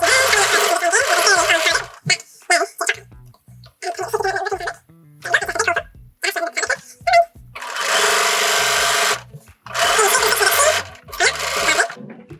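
Sewing machine stitching in the ditch on a quilt whirs in repeated bursts of rapid stitching, stopping and starting in an irregular rhythm, close and fairly loud, with short pauses between runs.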